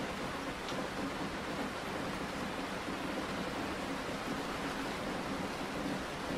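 Steady rain falling at night around a parked van, a dense, even hiss of drops with no pauses, constant and fairly loud throughout.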